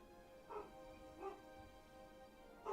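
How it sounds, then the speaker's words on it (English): A pet dog barks in a room, three short separate barks spaced about a second apart, fairly faint against a steady electronic hum. "And my dog is barking at nothing."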